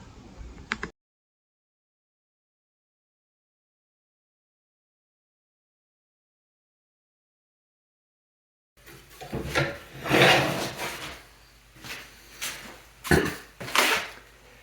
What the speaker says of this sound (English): I'll just take my negative rake scraper and smooth out any ridges that may exist